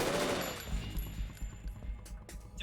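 Gunfire in the video game Metal Gear Solid 2: a dense, rapid spray of shots with deep thumping low end, loud at first, then fading into scattered bursts.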